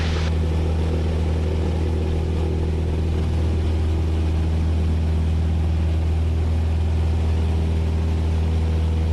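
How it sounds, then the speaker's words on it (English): A Cessna 172S single-engine plane runs at full power for a takeoff roll, giving a loud, steady, droning hum that stays even throughout with no talk. "Brakes on, full power."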